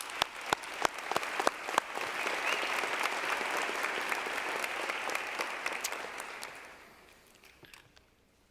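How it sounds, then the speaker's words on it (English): A graduation crowd at a university commencement breaks into full applause, a few sharp nearby claps standing out over the dense wash, which holds steady then fades out toward the end. "Let's have a round of applause."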